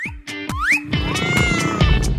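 A cat meows several times in quick succession, close and fairly loud, with rising and falling calls and no talk over them.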